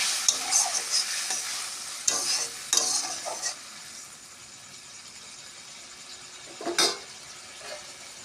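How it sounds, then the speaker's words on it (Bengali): Water is poured onto potato and hog plum chorchori cooking in a pan, setting off a bright, loud hiss that dies down into a quieter simmer, broken by a few stirring scrapes and one more brief hissing flare. "কষানো হয়ে গেছে, পরিমাণ মতন আমি জল দিচ্ছি।"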